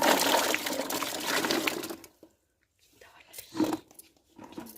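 Wild regi fruits are swished and rinsed in water in a forest setting, a loud burst of sloshing followed by quieter intermittent splashes and handling noises.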